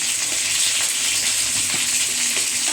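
Dried red chillies and tomatoes sizzle steadily in a hot pan while being cooked into pizza sauce, a dense, even frying hiss with faint stirring clicks.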